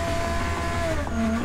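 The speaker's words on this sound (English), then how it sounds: "We did it to try and hopefully amplify the sound a bit coming out of the car" Exhaust of a Nissan S14 race car on track, a loud, sustained engine roar with the pitch rising and sliding, close and dominant, with a faint tire squeal near the end.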